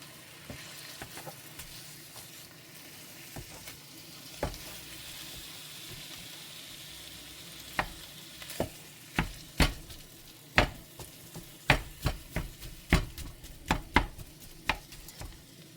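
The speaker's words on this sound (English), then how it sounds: "First, we're gonna brown the burger." Ground beef browns in a pan for taco filling, with a soft steady sizzle and a run of sharp rhythmic knocks as a meat masher breaks it up, growing louder and faster toward the end.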